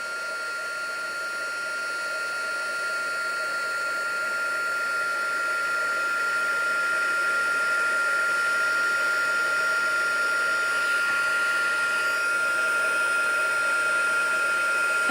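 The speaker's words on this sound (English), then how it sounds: "So now we're just going to heat set the edges here." A heat tool heat-sets the edges of a handmade Valentine's card, blowing a loud, steady hiss with a high whine that holds without a break the whole way through.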